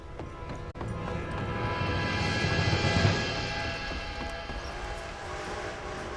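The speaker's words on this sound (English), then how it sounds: "Train!" A steam-era train approaching in Red Dead Redemption 2: a broad rumbling roar swells steadily to a peak, then holds and eases slightly, with a steady hum running under it.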